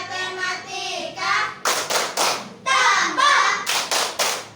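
A classroom of children performs a rhythmic math clapping chant, bursts of sharp unison claps alternating with chanted voices in a steady, repeating pattern, close and lively.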